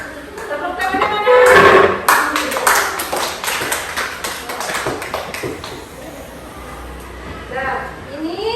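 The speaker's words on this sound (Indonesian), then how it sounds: "Kelompok 1 mana? Tepuk tangannya mana?" Schoolchildren in a classroom clap their hands in a group-winning cheer, a burst of loud mixed clapping and shuffling close by, tapering into scattered taps and voices.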